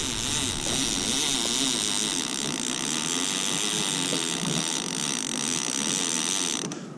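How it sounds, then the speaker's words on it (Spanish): A fishing reel set free spins out line for bluefin tuna fishing, a continuous buzzing, ratcheting whir that stays steady and close for several seconds before stopping abruptly. "Liberamos el carrete."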